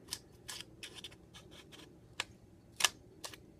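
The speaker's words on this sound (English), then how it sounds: "With your scissors, cut a little slit." Scissors cut a slit in a paper circle for a penguin mask, making faint short snips and rustles, with a couple of crisp louder clicks.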